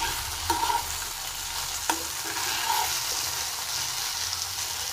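Okra sizzles and fries steadily in coconut oil in a pan for a vegetable thoran, with a few sharp scrapes of a spoon stirring it, continuous and close with no talking.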